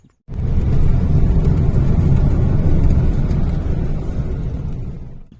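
A 1989 Citroën small car with a 1.1 TU engine on 145/70 R13 tyres drives along a road, giving a steady, loud engine and road roar from start to finish with no talking.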